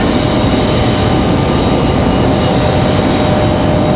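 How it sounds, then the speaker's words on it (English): An American Airlines Airbus A321 arriving from Charlotte at Raleigh-Durham International Airport gives a loud, steady broadband roar that holds constant throughout, with no voices. "American Airlines 1904 coming in from Charlotte, it's A321."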